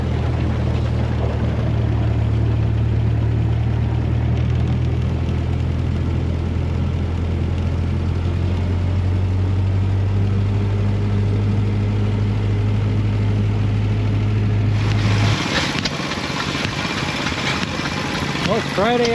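Antique tractors and steam engines running at the Midwest Old Threshers show, a steady low engine rumble and idle that continues throughout with outdoor background noise, no talking.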